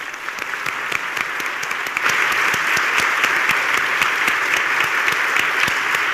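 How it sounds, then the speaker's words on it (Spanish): Sustained applause from an audience filling a university lecture hall, steady and dense throughout and swelling noticeably louder partway through. "Este aplauso era para el rector."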